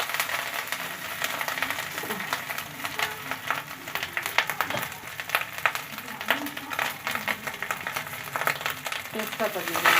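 Ginger paste and spices, including cumin and radhuni, sizzle and fry loudly and steadily in hot oil while being stirred, with a voice talking over the cooking.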